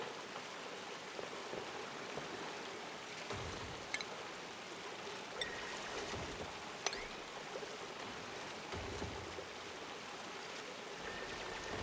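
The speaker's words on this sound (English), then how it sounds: "look, it's made itself a everlasting waterfall." Water pours steadily as an endless waterfall in the game Oxygen Not Included, a continuous soft hissing rush like rain or a stream, faint and even throughout with a few tiny splashes, and no voices.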